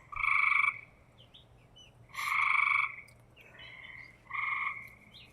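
Frogs croak in four distinct bursts, each lasting under a second, with brief quiet gaps between them, fairly loud over a low, quiet background.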